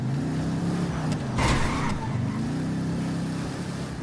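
Engine of a 1966 Ford Mustang fastback in the racing game RedlineRP, a steady close drone that swells briefly as it revs, with no one talking.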